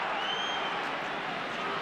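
Crowd at a 2006 hurling match involving Limerick, a diffuse, steady roar of cheering and clapping heard at a distance without a clear peak.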